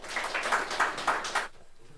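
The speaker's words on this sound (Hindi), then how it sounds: "उनके लिए एक बार जोरदार ताली।" Faint rhythmic clapping at a ceremony honouring newly selected teacher candidates, a brief run of steady claps that stops abruptly after about a second and a half.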